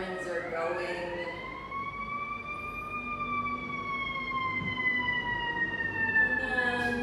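Emergency vehicle sirens wail outside, the rising and falling tones steady and fairly loud for the whole stretch, passing at a middle distance behind a faint low rumble.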